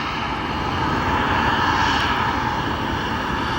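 A Cargolux Boeing 747 cargo jet holds at O'Hare Airport with a continuous loud engine roar and broadband whine, steady and unbroken throughout, with no voices over it.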